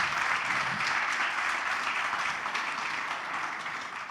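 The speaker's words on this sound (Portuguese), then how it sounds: "Uma bela salva de palmas aos nossos secretários." A crowd at a diocesan assembly claps for the group secretaries, dense sustained applause from many hands that holds steady and eases off slightly toward the end.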